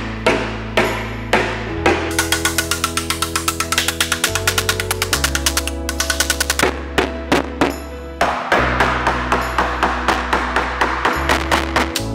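Steady, rapid hammering of metal over a hammer form buck, dozens of ringing blows in quick even rhythm with brief pauses, close and loud, over a low mechanical hum.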